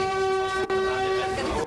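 A train pulling into Belluno station with a long, steady horn or whistle tone held over rumbling rail noise, loud and close, briefly dipping once before continuing.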